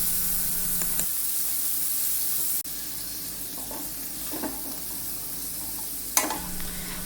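Dried prawns fry and sizzle steadily in a pan, loud and continuous, with a few soft stirring scrapes and clinks while the prawns are roasted for chammanthi podi.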